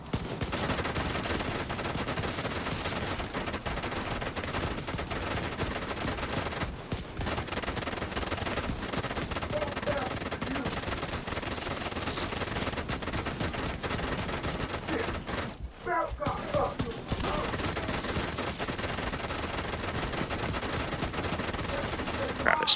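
Sustained minigun fire roars through a firefight in the video game Division 2, long dense bursts of rapid shots with only brief breaks, loud and continuous with muffled voices underneath.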